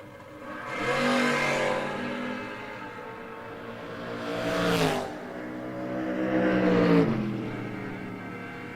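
Drag race cars, a Cavalier and a 1998 Mustang, make engine runs at a strip, giving loud rising engine tones in several swelling passes with a pitch sweep as one roars by, no voices.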